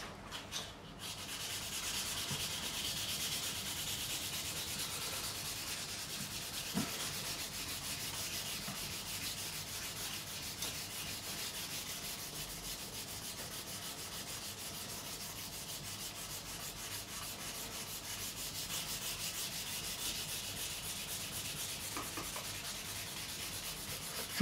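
A fret on an Ibanez Roadstar II RG200 guitar neck is sanded with 400 grit sandpaper: a steady, close, continuous rasping rub that holds an even rhythm throughout, with no voices.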